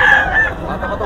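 A Bull Stag gamecock of the Golden Boy line, about six months old, crows at a busy Bocaue poultry market, its loud call ringing over the crowd noise in a single burst.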